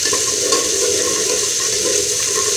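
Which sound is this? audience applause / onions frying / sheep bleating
onions frying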